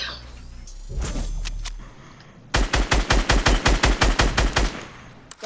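A video-game gun fires a rapid, evenly spaced burst of about a dozen loud, sharp shots after a low rumbling lead-in, then stops abruptly.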